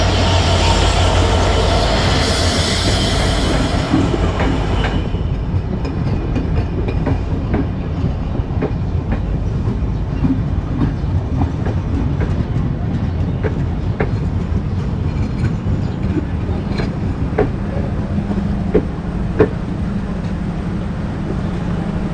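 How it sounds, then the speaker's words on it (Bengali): The Silk City intercity express, pulled by an Indonesian-built locomotive, rolls into a Bangladeshi station platform during the Eid rush, loud and close, with steady wheel rumble, rhythmic clacking over rail joints and occasional metallic squeals. "অলরেডি কিন্তু প্ল্যাটফর্মে প্রবেশ করে গিয়েছে সিল্ক সিটি আন্তনগর এক্সপ্রেস ট্রেনটি, সিরিজ 753-54 ইন্দোনেশিয়ান লোকোমোটিভে।"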